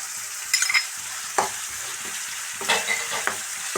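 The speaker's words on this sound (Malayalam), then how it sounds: "നമ്മൾ വെച്ച സവാളയൊക്കെ നേരിയതായിട്ടൊന്ന് ഫ്രൈ ആയിട്ടുണ്ട്" Sliced onions fry lightly in a pan with green chillies, curry leaves and ginger-garlic paste, giving a steady bright sizzle broken by repeated scraping stirs of a spoon against the pan.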